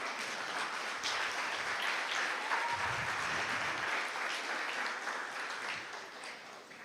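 A church congregation applauds steadily, a dense wash of clapping that holds for several seconds and tapers slightly at the end.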